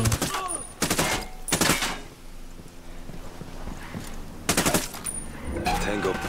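Gunfire in the video game Tom Clancy's Ghost Recon Wildlands: several loud, sharp bursts of rapid shots come close together, separated by quieter stretches of in-game ambience.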